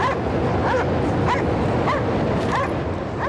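A dog barks and yips repeatedly in the video game Cryostasis, a string of sharp close calls mixed with whimpers over a dense game background.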